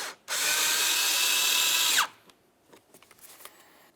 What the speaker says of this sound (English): Now we can take that Phillips head mounting screw.